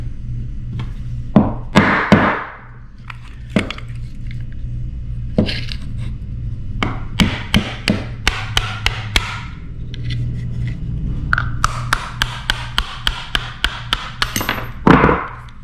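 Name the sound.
hammer driving pin out with punch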